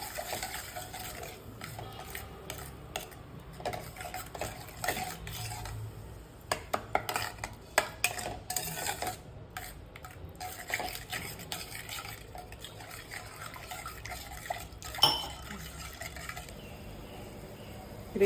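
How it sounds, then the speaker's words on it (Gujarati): Potato gravy stirred in a pot with added water and mashed potato, a steady run of spoon scrapes and clinks against the metal with a soft bubbling simmer underneath, close and fairly quiet, no talking. "થોડું પાણી નાખતા હલાવતું કરવાનું છે"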